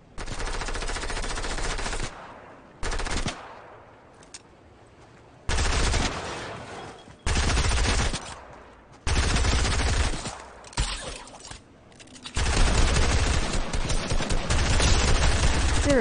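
Rapid automatic gunfire in the video game Fortnite, loud bursts of sustained shooting broken by short pauses and quieter gaps, ending in a long continuous volley.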